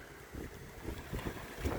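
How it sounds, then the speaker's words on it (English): Gusting wind buffets the microphone as a storm rolls in at Havasu, low rumbling pulses swelling and easing in irregular bursts, fairly faint and alone. "it's rolling in and it's getting windy. You probably hear it."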